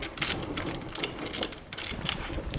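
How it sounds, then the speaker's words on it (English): A bolt and nut being tightened on a stilt during assembly, with a quick rapid ratcheting clatter that continues steadily, close and fairly loud, with no talking. "still not going to tighten it all the way up"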